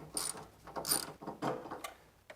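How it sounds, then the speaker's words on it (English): A hand ratchet clicks in short bursts while loosening bolts on the cowl extension of a Nissan VK56 V8 engine during a rebuild, close and fairly loud with brief pauses between strokes. "now we should be able to get this off by just removing all of the nuts in it"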